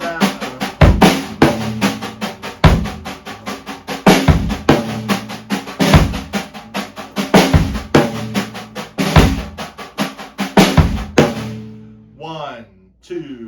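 A drum kit plays a steady groove with the bass drum on beats 2 and 4, in a cover of a song. The hits are punchy and close, with cymbal wash between them, and the pattern fades into a brief quieter tail at the end.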